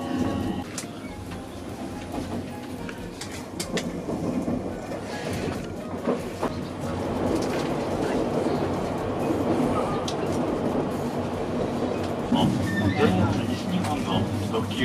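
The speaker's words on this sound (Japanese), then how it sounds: "列車は最後新大阪から大阪まで梅田貨物線の区間を走行していきます" A Mahoroba limited express train runs on the Umeda freight line between Shin-Osaka and Osaka, its steady rumble and rail clatter heard from on board, with a murmur of voices mixed in throughout.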